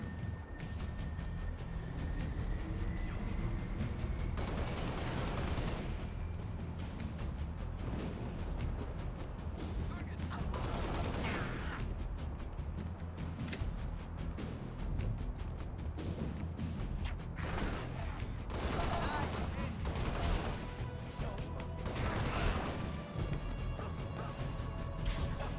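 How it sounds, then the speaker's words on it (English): Weapon fire in Halo: Spartan Assault comes in several loud bursts of shots and blasts, spread over a steady mechanical game backdrop. "You're really shooting that rock."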